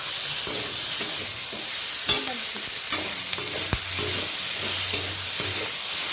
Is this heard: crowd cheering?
no